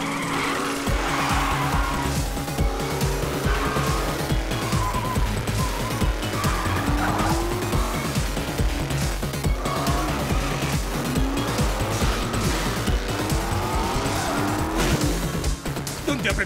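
A cartoon car speeding with repeated tire squeals and skids over a loud, continuous engine roar, with voices talking over it throughout.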